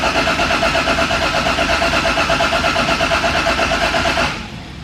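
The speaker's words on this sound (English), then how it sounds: "It's finally that moment where we start the car" A car with a 4-speed dogbox, left unused for months, cranks and catches into a loud, steady pulsing engine note close by for about four seconds before the sound cuts to a low hum.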